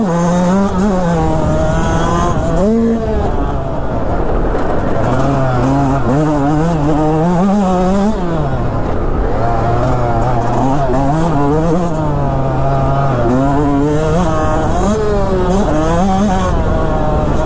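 A Yamaha YZ125X dirt bike engine on a test ride, revving continuously and loudly, climbing and falling in pitch through repeated throttle changes and gear shifts, with no talking.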